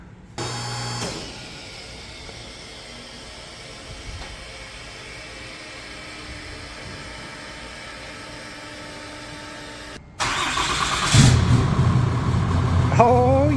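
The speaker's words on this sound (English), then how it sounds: "We're gonna start this thing up, see what the new beast sounds like." A 6.7 Cummins diesel truck engine with a new 5-inch exhaust cranks and fires up near the end, settling into a loud, deep rumbling idle after a long stretch of low background hum.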